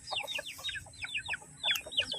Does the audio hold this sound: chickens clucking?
yes